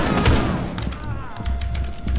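Rapid gunfire in Rainbow Six Siege, a burst of loud close shots with ringing tails and game effects behind them.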